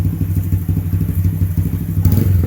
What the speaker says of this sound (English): I'm going to put the bike in 4th gear, and we're going to rev it out